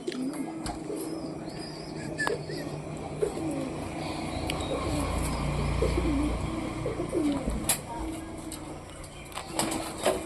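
Pigeons in a home loft coo softly in a few short, scattered calls, with a low rumble and light chirps in the background and some handling noise nearby.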